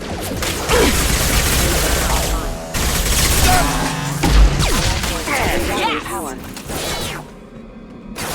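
Rapid bursts of video-game gunfire hit hostile mechs in Mass Effect 2. The shots come loud and close in clustered volleys with mechanical clatter, and a voice talks over the action.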